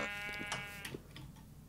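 A Minecraft sheep bleats in the video game, a single wavering, buzzy, harmonic bleat about a second long, close and clear over faint background noise, with no talk.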